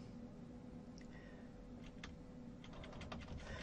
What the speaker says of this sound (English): I'm using the keyboard